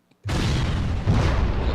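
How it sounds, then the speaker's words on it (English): A single loud explosion sound effect bursts in abruptly after a brief silence, then sustains as a dense, rumbling roar with heavy low-end boom through the rest of the clip. "You got a new explosion."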